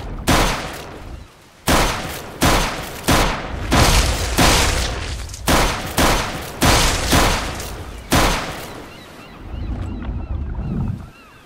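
Guns fire in the Minecraft Scape and Run game as roughly ten loud, booming shots in steady succession about a second apart, each with a short tail, ending in quieter rumble.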